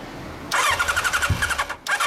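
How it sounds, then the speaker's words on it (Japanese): A 1988 Kawasaki ZX-10 motorcycle with a Devil exhaust silencer starts up close by and settles into a loud, throbbing idle with a steady pulsing rhythm after a brief quiet moment. "エンジン音を聞かせてもらえますか？"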